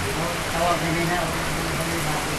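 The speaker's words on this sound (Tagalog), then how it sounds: "Ang lakas ng ulan" Heavy rain pours steadily at Katibawasan Falls on Camiguin Island, a dense continuous hiss of drops with no pauses.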